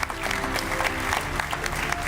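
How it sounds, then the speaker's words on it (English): Dense, loud applause fills the hall at the 47th CAF Ordinary General Assembly in Kinshasa, many hands clapping together in a continuous close roar. "Let's clap hands once more, please."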